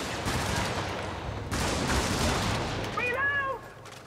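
Rapid video game gunfire crackles in dense bursts, surging louder midway and fading near the end, with a voice speaking briefly under it toward the close.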